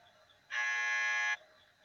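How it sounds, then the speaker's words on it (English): A single steady electronic beep in the mobile Sister Location horror game, lasting under a second, loud and bright against a quiet background with no other sounds. "Let it beep."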